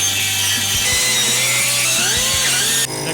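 A power drill bores out bolt holes in Miata frame rails in a backyard, a loud, close, grinding metal whine with shifting pitch that drops off sharply at the end.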